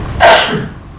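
A single sharp sneeze bursts out close by, a quick explosive puff of breath that fades into quiet.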